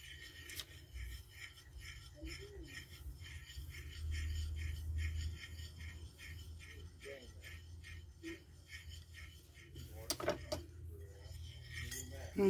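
Fish coating ingredients for Mediterranean cod are stirred together in a bowl, producing a steady run of small rattling, clinking utensil scrapes, close and quiet, with a few sharper knocks near the end.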